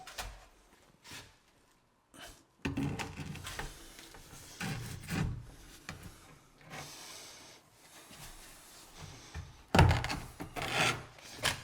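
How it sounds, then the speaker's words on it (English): A trowel scrapes and rubs thin-set mortar across the back of a tile in repeated rasping strokes, close and irregular, with brief pauses and a sharper knock near the end. "So I'm gonna back trowel this one because I'm knowing I need a little bit more thin set on this."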